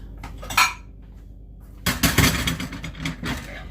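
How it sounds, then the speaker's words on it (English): A ceramic plate lifted out from a stack and set down on a kitchen counter, a quick clink followed by a louder rattling clatter of dishes, close and with no talk. "So I'll get a plate."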